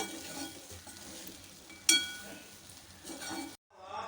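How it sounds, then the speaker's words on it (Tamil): Vangi bath rice being mixed with eggplant masala in a pan, soft stirring scrapes and a faint sizzle with one sharp metallic clink of a utensil, then a brief pause. "மெதுவாக மிக்ஸ் பண்ணி விட்டுக்கோங்க"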